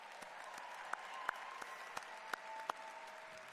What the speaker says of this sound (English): So another round of applause for our graduates.